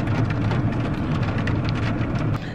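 Steady rain falls with a dense, constant hiss and patter, loud and close throughout, with no voices.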